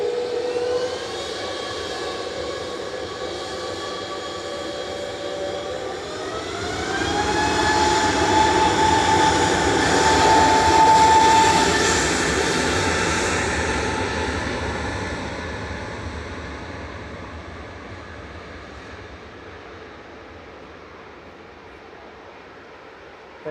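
A Neos airliner's jet engines roar on departure from Manchester Airport, a broad, steady rumble that swells toward the middle and then slowly fades into the distance with no talking.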